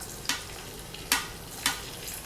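Mustard seeds, cumin, chana dal and garlic tempering in hot oil, with three sharp bursts of sizzle and crackle spaced apart over a steady low background hiss, fairly close.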